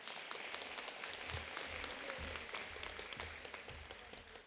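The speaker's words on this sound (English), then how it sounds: "Another round of applause for Nicole." Sustained audience applause for a school district Teacher of the Year honoree, steady dense clapping filling the hall for several seconds without talk.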